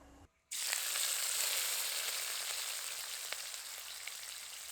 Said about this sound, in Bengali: প্রথমে আমি চিংড়ি মাছটা ভেজে নেব